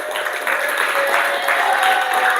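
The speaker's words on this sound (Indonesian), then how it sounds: "selamat buat mereka, tepuk tangan buat mereka" Classroom group claps for the basketball champions, a loud, continuous patter of hands close by with faint voices mixed in.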